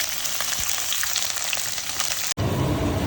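Onion sizzling in hot oil in a pan with peanuts, urad dal and chana dal for egg semiya upma, a dense close crackling fry that cuts briefly and resumes louder.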